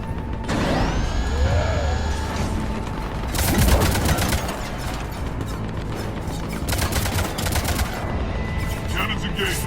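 Heavy cannon fire in the Mass Effect 3 video game, a run of loud, rapid mechanical bursts and impacts in two main clusters over a droning, sci-fi ambient bed with whining tones.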